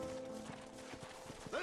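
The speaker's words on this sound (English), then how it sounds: "Horses are over here!" Horse hooves clip-clopping in a Red Dead Redemption game scene, a quick series of soft rhythmic hoof beats under a steady background tone, ending in a short whinny-like call.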